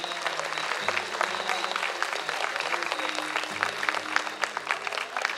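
An audience claps together at a school art and culture annual function, a dense, continuous patter of many hands that is fairly even and moderately loud throughout.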